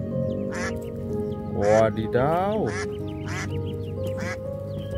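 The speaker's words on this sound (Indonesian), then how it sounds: "ada anak bebek" Ducklings quack several times in short clusters, mixed with an excited voice talking over them.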